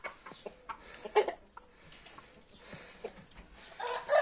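A young rooster, a February-hatched chick that matured early, gives scattered short clucks and soft calls, fairly faint and close, with brief louder bursts near the start and at the end.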